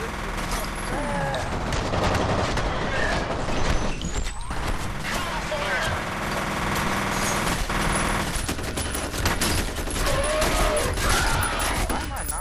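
Dense gunfire and explosions from the video game F.E.A.R. keep up without pause, with rapid automatic bursts, booms and mechanical clanks in a loud, busy mix over a steady low rumble.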